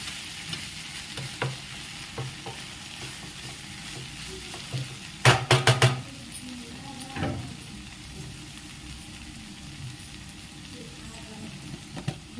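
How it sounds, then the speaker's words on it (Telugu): Bobbarakaya (cowpea) curry being stirred in a pan, with quiet scraping and a brief cluster of sharper clatters midway, over a faint background. "ఇలా మగ్గిన తర్వాత బాగా కలుపుకోండి"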